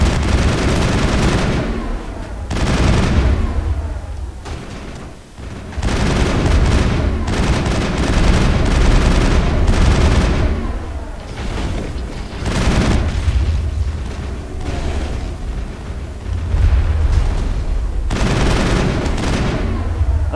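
Pistol fire in the Mass Effect video game, loud rapid shots in bursts with booming impacts, dense and continuous with short pauses between volleys.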